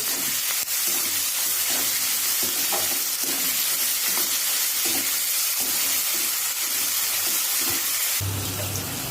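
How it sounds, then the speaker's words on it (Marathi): Onion and tomato sautéing in a pan with a little salt for sprouted matki usal, a steady broadband sizzle with scattered stirring scrapes, close and continuous, ending in a brief louder stir. "इथे आपला कांदा टोमॅटो छान परतून झालेला आहे"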